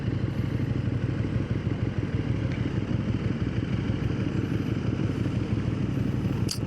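A 2024 KTM 1290 Super Duke GT motorcycle engine runs steadily and loudly throughout, a continuous close rumble with a few faint clicks on top and no talking.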